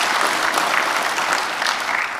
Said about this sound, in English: Let's give a round of applause for top 3.